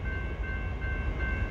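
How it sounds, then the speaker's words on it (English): Amtrak California San Joaquin train 713, northbound for Oakland, passing Sunmaid Diamond in Fresno, California, a steady rumbling rail roar with a faint sustained tonal ring above it, heard briefly without talking. "here comes San Joaquin train 713"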